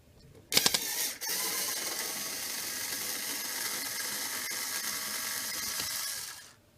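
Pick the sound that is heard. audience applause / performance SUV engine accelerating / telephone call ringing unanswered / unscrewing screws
unscrewing screws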